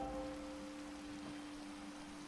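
Rain falling in Minecraft, a soft even hiss of rainfall with a faint steady hum beneath it, no voices.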